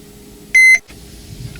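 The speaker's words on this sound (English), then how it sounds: "until you hear it beep, which takes a little while." A single short electronic beep from a 2016 Sprinter 2.1L dashboard sounds during an oil life reset, clear and loud against a quiet background.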